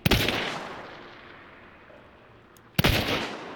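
Two loud gunshots from the Uppercut, a long-ammo gun in the game Hunt Showdown, each a sharp blast with a long rumbling tail, spaced nearly three seconds apart.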